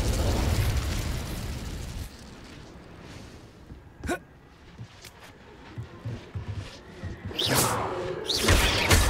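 A fire spell is cast in the Hogwarts Legacy video game on the Poidsear Coast, opening with a loud whooshing burst of flame that fades, followed by sharp pops and later magical flares.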